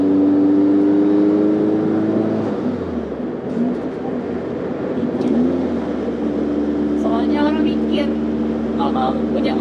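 A Caterham sports car engine drones steadily with a low rumble that dips briefly and then accelerates again, heard from inside the car with people talking over it.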